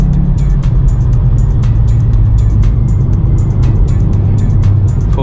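A VW Mk7.5 Golf R accelerates hard, its engine a loud, constant low roar heard from inside the car, with a rhythmic ticking pattern running above the drone and no speech.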